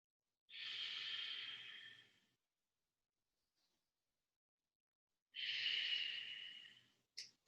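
Slow, deep yoga breaths during a held pose: two long, airy exhales, each lasting about two seconds, separated by a quiet pause, followed by the start of a third breath at the end, close and clear.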